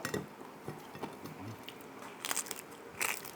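Crisp crunching and cracking of bagnet-style pork crackling being broken apart at a market, a few sharp snaps standing out near the end, close and clear with no talk.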